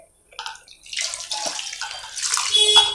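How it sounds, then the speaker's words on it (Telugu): A glass of water poured into a pan of cucumber and tomato curry gives a steady splashing, gurgling rush that starts after a brief quiet moment and builds in loudness over a few seconds. No one speaks. "ఇప్పుడు 1 గ్లాస్ వాటర్ పోసుకొని,"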